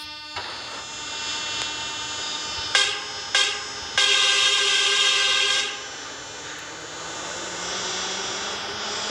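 Metro train in an underground system departing a station and riding toward the next stop, with a steady broadband rumble throughout, a few sharp bursts and a louder stretch of high-pitched whine before settling back to running noise.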